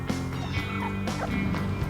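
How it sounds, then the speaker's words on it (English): A wild turkey tom in an urban backyard in spring, calling near and loud with a burst of gobbling and harsh vocal notes over about two seconds. "This wild turkey tom came over to keep me away from his hen."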